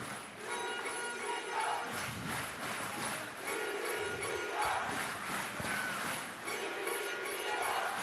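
A football crowd at Rizal Memorial stadium chants and cheers in rhythmic waves, a dense roar filling the whole stretch during a Philippines versus Indonesia women's championship match.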